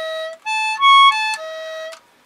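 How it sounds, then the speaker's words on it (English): A cheap toy trumpet plays a short tune of about five held notes with a pure, breathy flute-like or recorder-like tone, clear and close with brief gaps between the notes. "It's a toy trumpet that sounds like a flute,"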